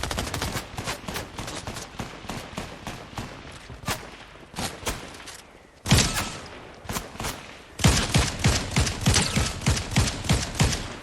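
Rapid bursts of video game gunfire crackle in close, dense volleys, with a brief lull and then louder clustered shots. No voices are heard.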